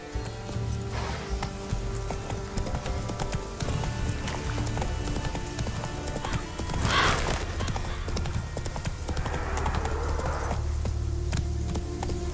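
Roach, a horse in the video game The Witcher 3, gallops with rapid, steady hoofbeats over a busy game soundscape, with a brief louder burst midway and no spoken voice.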